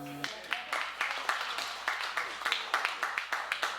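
Applause from a church service audience, with a steady patter of many claps across the whole stretch at moderate volume. A brief voiced sound opens it.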